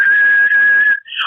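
A voice imitates a peanut cart vendor's whistle: one loud, sustained, steady tone held for about a second, ending in a brief higher rising flourish.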